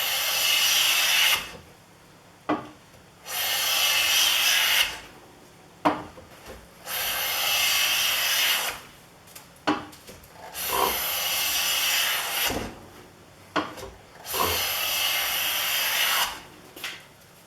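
A rare Stiletto hand plane with a razor-sharp iron shaves a thick poplar board in repeated long strokes, each a loud rasping hiss of about two seconds, separated by short pauses and light knocks as the plane is reset.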